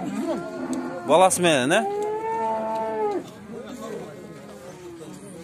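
A cow moos with a long, drawn-out call at a busy livestock market in Bishkek, loud and close, with people talking over the lowing and market chatter in the background.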